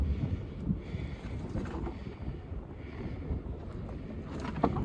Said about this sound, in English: And super windy.